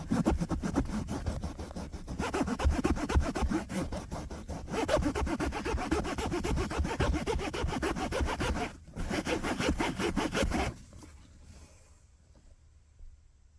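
Vigorous scrubbing of WD-40 into car seat fabric to lift chewing gum, a rough rhythmic scratching and rubbing close by, with brief pauses before it stops and fades to quiet near the end.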